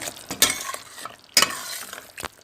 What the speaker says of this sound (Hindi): तकरीबन 5 मिनट हो गए हैं हमें इसके मसाले को भूनते हुए।